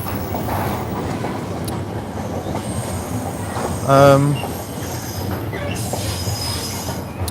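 A train rolls past a woodland spot, its steady rumble and rail clatter running throughout, with a sharp wheel squeal rising briefly near the middle and faint talk in the background.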